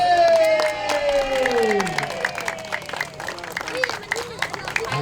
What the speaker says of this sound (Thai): ขอเสียงปรบมือดังๆให้กับเรือจ้ากับเพชรเบ